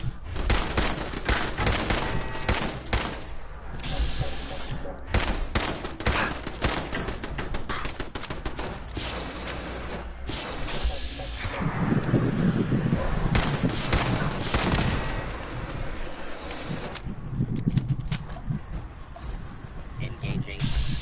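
Rapid automatic turret gunfire in the video game Fallout 4, loud dense bursts of shots running almost continuously, with a voice talking over parts of it.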